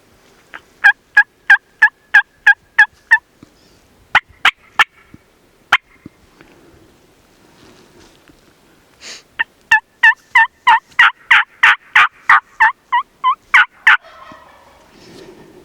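Wild turkey gobbling in loud, rapid rattling bursts, several calls in quick succession, a pause, then a longer run of gobbles, fairly close on a hillside with no talking.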